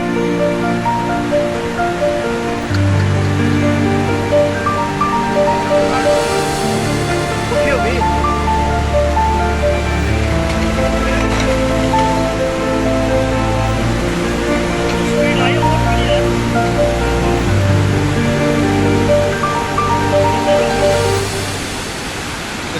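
Rising floodwater rushes in a loud, continuous roar that holds steady throughout, with people talking over the torrent.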